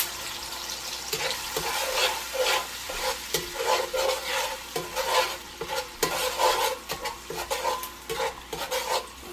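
Fresh homemade sofrito sizzles in a pot while a spoon stirs and scrapes through it in a steady, uneven rhythm, close and moderately quiet.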